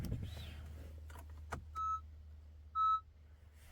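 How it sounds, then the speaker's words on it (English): A 2013 Honda Accord with a no-start problem sounds a key-absent warning: two clear electronic beeps, one short and one longer, over a low steady hum inside the car, with a faint third beep starting at the end. "It beeps because I don't have the key."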